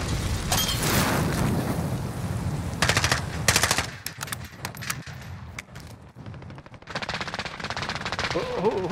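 Rapid automatic gunfire in Call of Duty: Warzone crackles in several bursts, loud at first and then trailing into sporadic shots and further rattling volleys, with game ambience underneath.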